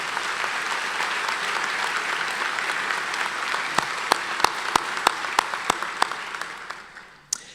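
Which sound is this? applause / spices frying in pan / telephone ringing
applause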